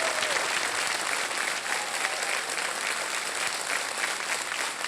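A studio audience on Kaun Banega Crorepati gives steady, sustained applause welcoming a guest, General Rajesh Arun Moghe of the Durant Cup organizing committee, a full unbroken wash of clapping with no talk over it.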